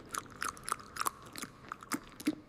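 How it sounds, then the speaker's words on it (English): Loud, wet chewing of pink bubble gum, close up, with repeated smacking and crunching bites in an irregular rhythm and no talking. "please stop chewing your pink gum so loudly right now"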